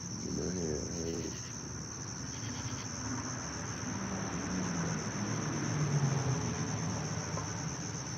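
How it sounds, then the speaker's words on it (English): Crickets chirp at night in a continuous high shrill trill, steady and fairly faint, with a constant hum and some low background sound beneath. "Bro, I hear cricket, man."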